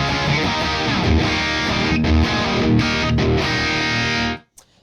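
Heavy distorted electric guitar through a Knuckles pedal, miked with a 121 ribbon microphone, ringing out a dense, thick, dark riff for a few seconds before cutting off abruptly.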